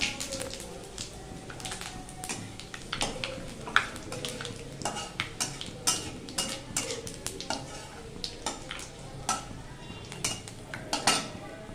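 Spices such as cumin tempering in hot oil for a besan curry, giving a soft spread-out crackle under repeated clinks and scrapes of a spoon against a metal pot, moderately close and steady throughout.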